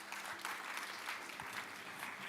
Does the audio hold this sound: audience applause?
yes